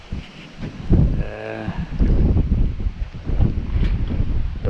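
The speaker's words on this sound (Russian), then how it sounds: "Ох, ветер дует очень сильно." Strong hurricane wind on open water buffets and roars in gusty surges, loud and close, with rushing noise and no talk.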